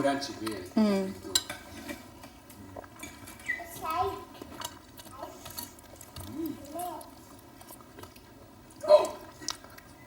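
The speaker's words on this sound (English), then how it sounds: "You do not throw your cutlery on the floor." Cutlery and dishes clatter at a family dinner table, with a sharper knock near the end, all under frequent talk from a child and adults.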